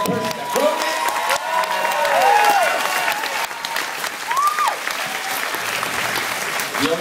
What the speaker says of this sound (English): can we just take one quick moment to applaud the person that wrote it?